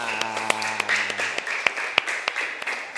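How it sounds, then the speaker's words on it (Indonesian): A classroom of students clapping for their teacher at school, with scattered, uneven claps over a steady murmur of voices and a few louder individual claps. "Tepuk tangan dulu dong buat kita"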